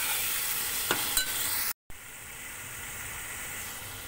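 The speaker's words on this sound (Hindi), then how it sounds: "और सबको अच्छे से भून लेंगे 2 से 3 मिनट के लिए।" Mutton masala spices with tomatoes fry and are stirred in a pan, a steady sizzle with a few scraping stirs and one brief dropout, no talking.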